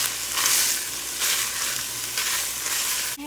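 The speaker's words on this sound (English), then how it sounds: "add in some chopped up onion and some garlic. And I'm just gonna let this saute together." Chopped onion and garlic sautéing in a pot, a continuous close sizzle with soft stirring swells throughout and a small clunk right at the end.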